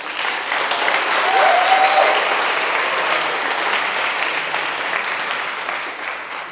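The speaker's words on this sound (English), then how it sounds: "So let's give a round of applause to them" A conference audience claps steadily for the organizers and technicians, a loud, dense wash of applause that holds for several seconds and eases slightly at the end.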